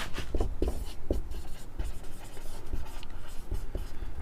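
Chalk or marker strokes on a board during a physics class on the magnetic effect of electric current, a close series of quick scratchy taps and short scrapes in an irregular writing rhythm, with no talk over them.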